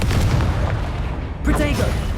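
Booming blasts from the Confringo spell in the Hogwarts Legacy video game, a loud low rumbling explosion followed by a second burst, with game sounds and voices mixed in.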